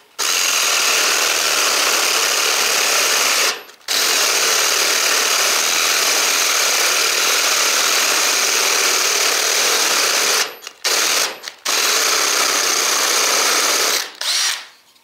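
Makita CXT FD06Z cordless drill driver boring holes, a loud close continuous motor whine that runs for several seconds at a time, stopping briefly between holes.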